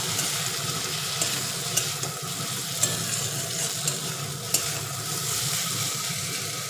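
Small fish sizzle in a frying pan while they are stirred and mixed, a continuous close frying hiss punctuated by several sharp clacks of the utensil against the pan, with no talking.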